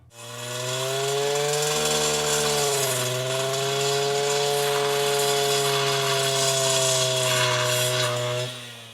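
An Oleo-mac brush cutter runs at steady high revs while clearing shrubs, its two-stroke engine droning loudly and continuously with a brief dip in pitch partway through, then cutting off at the end.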